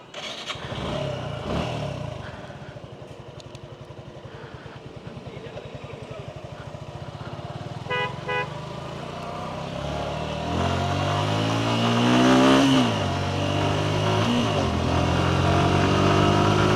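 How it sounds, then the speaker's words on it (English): Suzuki Gixxer SF 150 motorcycle being ridden in Bangladesh, its mid-pitched engine droning steadily before revving up through rising, falling pitch sweeps, close and continuous, with faint voices now and then. "So the bike I'm riding right now, it's called a Gixxer."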